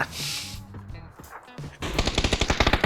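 Gunfire in the video game PUBG: scattered game sounds give way to a rapid, loud automatic burst of evenly spaced shots in the final second, close by and with no speech over it.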